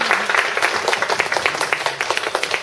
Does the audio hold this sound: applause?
yes